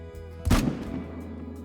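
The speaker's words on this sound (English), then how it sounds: "Now, something we could try is maybe a neck shot here." A single sharp rifle shot at a whitetail deer rings out in a hunting video game, a loud close crack with a short rumbling tail over a quiet background hum.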